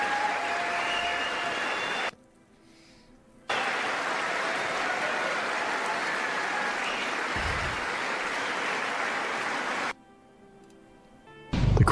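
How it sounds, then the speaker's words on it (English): Steady audience applause, dense continuous clapping broken by two short gaps of near quiet, then resuming at a similar level. "The puppet's clapping."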